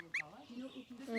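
A goose gives a brief, sharp cluck near the start, followed by soft, low, murmuring calls close by.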